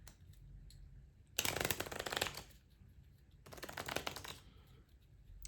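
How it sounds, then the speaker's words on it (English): Two quick riffle shuffles of a mushroom-themed tarot deck, crisp fluttering bursts of card edges close to the mic, separated by a quiet pause in a hushed room. "They have a nice feel to them with a shuffle"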